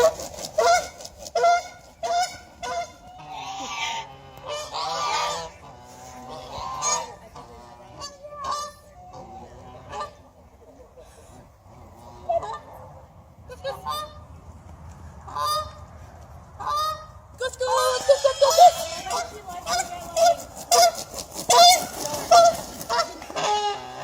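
A rescued Canada goose honks repeatedly in loud, irregular bursts, nearby and mostly on its own, with quieter stretches between the calls.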